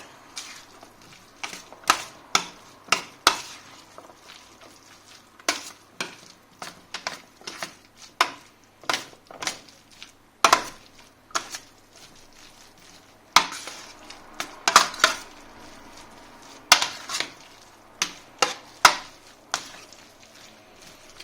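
Red onion and peas stirred in a pan with a utensil, giving sharp irregular scrapes and clinks in uneven bursts, fairly close, with no voice over them.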